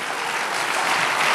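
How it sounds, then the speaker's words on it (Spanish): A church congregation claps together in praise during a sermon, producing steady, dense applause that fills the room and grows slightly stronger toward the end. "Dele aplauso al Señor."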